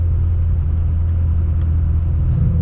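With its Capristo exhaust valves open, a Ferrari 355 F1 engine gives a loud, steady, deep rumble that stays even throughout, with no talk over it.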